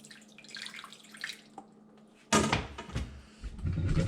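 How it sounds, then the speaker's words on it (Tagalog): A little water is poured into a roasting pan holding pork belly for lechon: a sudden splashing pour starts partway through and continues, loud and close, after a stretch of quiet kitchen clatter. "Lagyan muna natin ng konting tubig para magkaroon ng moisture habang i-roast natin siya."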